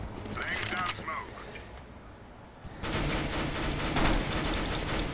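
Rapid automatic gunfire from a Counter-Strike: Global Offensive match, a sustained spray of shots dominating the second half after a quieter stretch, with players talking over the game.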